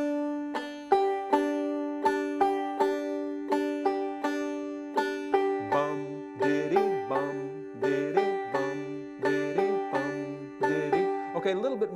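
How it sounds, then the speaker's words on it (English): A clawhammer banjo plays a bum diddy rhythm for the tune Tom Dooley, with bright, evenly spaced plucked notes and a drone string ringing through a steady repeating pattern, close and alone. "It's the bum diddy rhythm."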